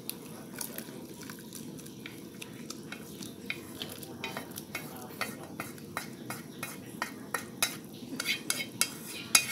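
Mushrooms go into a pot of boiling vegetarian broth for bún dọc mùng chay, heard as repeated clinks and scrapes of a utensil against the pot over a steady bubbling hiss, close and moderately loud, with no talking.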